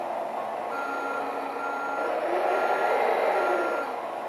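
An HG801 model truck sounds its electronic reversing beeper, a steady, fairly loud tone that holds without a break and without any talk.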